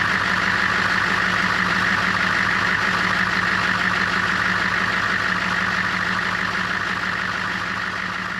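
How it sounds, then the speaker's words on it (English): A vehicle engine idles steadily while warming up to operating temperature, a continuous, even rumble with a faint mechanical whine that holds close and unchanging, with no one talking. "Then we're gonna bring the engine up to temperature"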